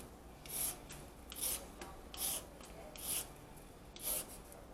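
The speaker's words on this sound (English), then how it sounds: "So, you peel the outside because this is what's been in the dirt." Outer skin being peeled from a vegetable, five evenly spaced scraping strokes about one second apart, crisp and close, with no talking.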